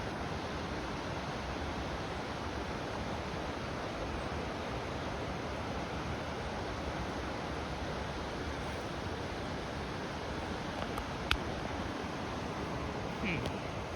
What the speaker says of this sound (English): so you can hear the water.